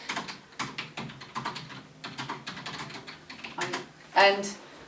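Keys tapped on a computer keyboard in short irregular bursts of clicks, close and moderately loud, ending with a sharper louder clatter.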